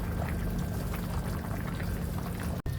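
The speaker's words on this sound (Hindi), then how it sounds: "अभी मैं इसको स्टेन कर लूँगी और जब स्टेनर के बाद इसको मैं ठंडे पानी से अच्छी तरह से" Boiled spaghetti is tipped into a strainer and rinsed with cold water, a steady loud rush of pouring water that lasts throughout, with a sharp brief click near the end.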